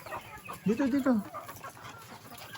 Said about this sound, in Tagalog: Ayan ang ating manok